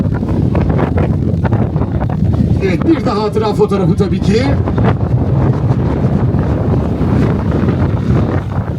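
Strong, continuous wind buffets the microphone outdoors at a cycling race stage ceremony, a roaring low rumble throughout with someone speaking over it.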